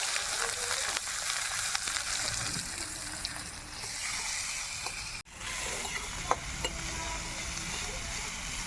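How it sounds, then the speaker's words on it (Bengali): Chopped onion and dried red chili hit hot oil with cumin tempering, crackling and sizzling steadily in a pan, a brief clatter midway before the frying resumes. "এখন দিয়ে দেবো শুকনো লঙ্কা আর ওটা জিরে ফোড়নে কুচনো পেঁয়াজ"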